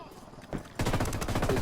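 Gunfire in Ghost Recon Wildlands starts up suddenly as a fast, dense rattle of shots after a moment of quieter background.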